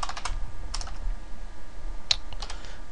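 Keys on a computer keyboard clack in short irregular bursts, close and moderately loud, against a low steady background hum.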